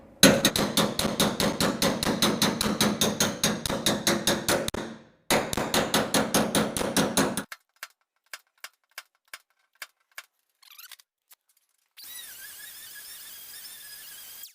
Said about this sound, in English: I'm going to use this with the hammer against it to flatten out that crown.